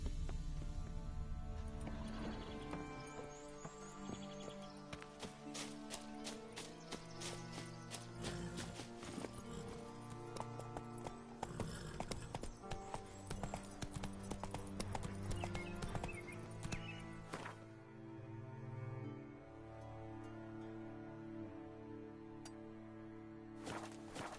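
Roach the horse galloping in The Witcher 3 video game, with steady rhythmic hoofbeats running throughout over a layer of background game music.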